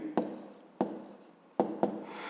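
A pen writes an answer in a school notebook in four quick strokes at an uneven pace, each starting with a crisp tap and trailing into a soft scratch, close and clear with no talking.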